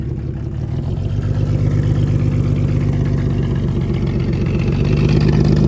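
A Mercedes 300D W124 with the OM606 diesel engine, left sitting for ten years, catches and settles into a loud, steady diesel clatter with a fast rhythmic knock that swells slightly as it keeps running, close by.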